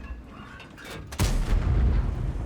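A single heavy tank cannon shot in World of Tanks, fired from an M48 Patton setup: a sudden loud boom that cuts in over quieter engine background and leaves a long low rumble behind it.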